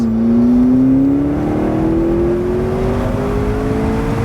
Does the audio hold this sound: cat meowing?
no